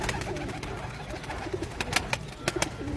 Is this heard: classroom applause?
no